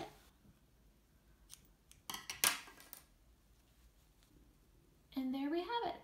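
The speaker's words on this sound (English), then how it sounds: "And then cut it." Scissors snip through crochet yarn on a coffee cup cozy, a short, crisp cut close to the mic in a quiet room, then a brief voice.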